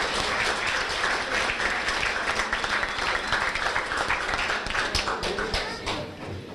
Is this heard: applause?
yes